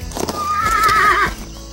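A cartoon horse gives a single loud, wavering neigh lasting about a second, close up and clear, with a short clip-clop of hooves ahead of it.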